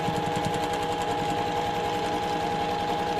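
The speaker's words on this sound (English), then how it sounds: "I'm going to stitch on between number 3 and number 4." A sewing machine stitching a seam on a quilt block runs in a fast, steady mechanical chatter of needle strokes, close and continuous throughout with no talk.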